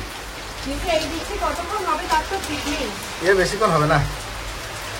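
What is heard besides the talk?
rain falling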